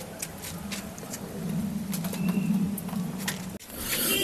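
Pigeons cooing inside a pigeon farm, soft low throaty coos repeating under a busy, noisy background with scattered clicks and rustling.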